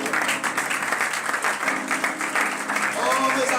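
A church congregation claps and applauds in acclaim, a sustained patter of many hands through the whole stretch, with a voice speaking over it.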